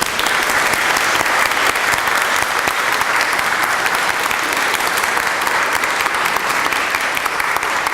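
Audience at a college induction ceremony applauding honorees, a dense, sustained wash of clapping from a large crowd that holds steady and loud throughout.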